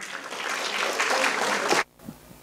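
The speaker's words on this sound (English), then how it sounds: "Let's welcome him with a big round of applause." A big round of applause from a live talk audience greets a speaker taking the stage, a dense steady clatter of clapping that cuts off abruptly near the end, leaving near silence.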